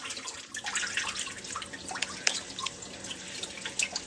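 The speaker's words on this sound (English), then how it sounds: "Let me just turn the water down." Tap water runs into a sink indoors, a soft, steady splashing patter with small irregular drips and spatters close to the microphone.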